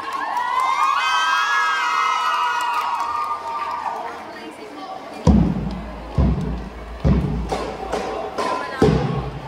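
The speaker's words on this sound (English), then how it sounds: "A round of applause, please." Crowd at an elementary school fiesta in Bulacan cheering and shouting, children's voices rising in a bright sustained roar, then a run of heavy thumps as the cheering continues.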